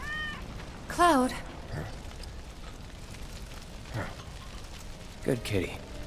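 A cat meows in the video game Final Fantasy VII Remake, one clear rising meow near the start and a fainter cry near the end, over a soft rainy ambience.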